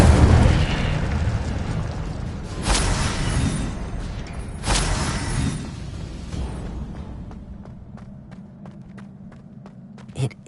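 A fire spell cast in the Hogwarts Legacy video game gives two loud bursts of flame, each with a bright whoosh, over constant game background noise. Lighter clicks and pops follow as the sound fades.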